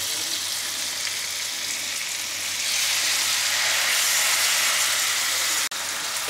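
Tandoori chicken pieces frying on a low-medium gas flame, giving a steady, fairly loud hiss that swells slightly partway through, broken by a brief click near the end.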